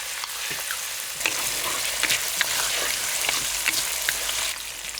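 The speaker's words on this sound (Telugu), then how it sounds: "వెంటనే పచ్చిమిర్చి, వెల్లుల్లి జీలకర్ర కూడా వేసుకుని 2-3 నిమిషాలు బాగా వేయించుకుందామండి." Green chillies, garlic and cumin fry in hot oil in a pan, a loud, close, continuous crackling sizzle with light stirring scrapes and no voices.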